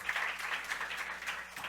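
A church congregation at a Sunday worship service applauds in a steady, dense wash of clapping that continues throughout, with no talk over it.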